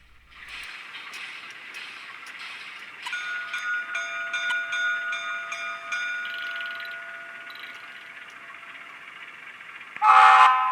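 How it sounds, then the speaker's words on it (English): A Bachmann RS-3 model locomotive with a TCS sound decoder plays its bell and horn: a steady ringing tone with sustained horn chords layered over a low engine hum, ending in a louder horn blast. "Now for the bell and the horn."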